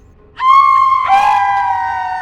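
Several people scream together in fright, a loud sustained shriek rising at once and holding for about two seconds, used as a horror story sound effect.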